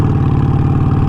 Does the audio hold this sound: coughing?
no